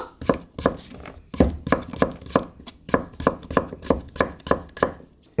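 A knife chops cucumber into thick slices in a quick, slightly uneven series of a dozen or more sharp thuds, close and loud, with no talking.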